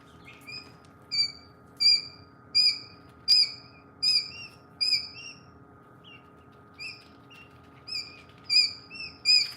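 Quail chicks in a brooder give repeated high, thin chirps in short regular bursts about every second, fairly near and clear over a steady low background hum.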